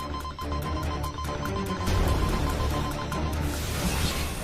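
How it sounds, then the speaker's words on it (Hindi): A telephone rings loudly and close by, a continuous bright electronic ring that keeps going without pause, with no talk over it. "बतौर का फोन।"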